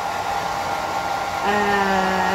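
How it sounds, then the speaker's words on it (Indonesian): A hair dryer blows steadily and loudly up close while drying a decoupage wooden tray, its whine shifting slightly in pitch partway through, with no talking. "kita hair dryer sampai kering"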